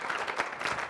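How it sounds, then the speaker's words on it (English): An audience at a DXN business seminar in Kuwait claps for a group, a brief, steady wash of applause with no individual claps standing out. "So for teamwork, can we have loud round of applause?"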